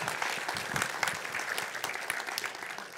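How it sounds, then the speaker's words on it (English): A conference audience applauds a speaker, with scattered, fairly soft clapping from a moderate crowd that holds steady for a few seconds. "So give a warm applause to Ian."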